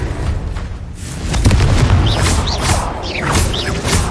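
A Confringo blasting spell in Hogwarts Legacy goes off as a loud, close boom with crackling debris, followed by rumbling and whooshing game effects.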